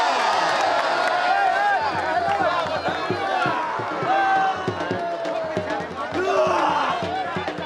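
Crowd at a kabaddi match cheering and clapping, with a loud announcer calling out and shouting over the din throughout.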